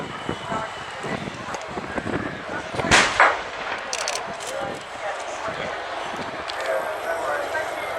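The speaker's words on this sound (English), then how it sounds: "Gunship have just destroyed the enemy that were holding out in a bunker using a laser-guided Hellfire missile" A simulated Hellfire missile strike explosion during an Apache airfield attack display at RIAT 2015 booms out at a distance amid wind and crowd-area ambience, with a few further distant blasts following.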